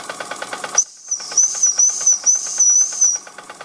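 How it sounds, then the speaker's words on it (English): A Bing toy steam engine over a century old runs with its steam whistle sounding: a rapid chuffing beat continues as a thin, high, steady whistle starts and holds for a few seconds, close and loud. "Whistle's good."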